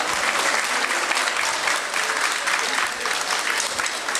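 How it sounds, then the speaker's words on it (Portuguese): An audience claps in dense, sustained applause at an anniversary celebration for a samba group, a steady roar of many hands from start to finish with a voice faintly beneath. "mais uma vez uma salva de palmas"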